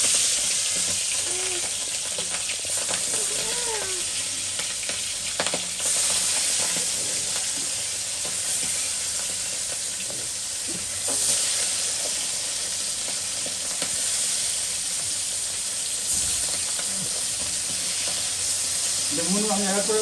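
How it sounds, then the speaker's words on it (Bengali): Fish being fried in hot oil in a wok, a steady loud sizzle and hiss running throughout, with brief clinks and faint background voices over it. "তো এই দেখুন, মাছগুলো আমি এক এক করে কড়ার মধ্যে দিয়ে দিচ্ছি।"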